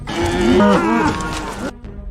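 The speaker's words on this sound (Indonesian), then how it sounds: "Mirip kayak suara sapi dalam bahasa Hawaii ya." A cow moos in a long, loud, drawn-out call with a wavering pitch that rises and falls, then cuts off abruptly near the end, leaving a faint tail.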